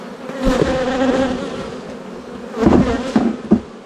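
Honeybees swarm and buzz loudly around a busy hive during a spring honey harvest on a farm, a close, dense drone that swells with a few sharp knocks near the end.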